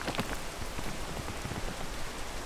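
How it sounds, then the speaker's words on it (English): Steady rain pattering down in a video game, a continuous soft hiss of drops on surfaces with no talking. "Look at the rain."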